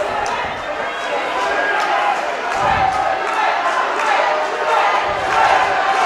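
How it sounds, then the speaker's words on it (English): A crowd at a wrestling event cheers Luke DISangro during a ringside count-out, a dense roar of voices and shouts rising in waves, with an announcer talking over it. "The crowd rooting DISangro on, hoping that he could get back into the ring"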